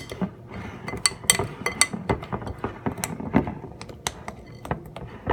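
Spoon clinking and scraping against a bowl while stirring black bean corn bread muffin batter, close and quiet, with irregular taps and scrapes.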